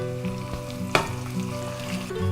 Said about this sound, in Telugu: తర్వాత ఇందులో కొంచెం కరివేపాకు తుంచుకొని వేసుకోండి.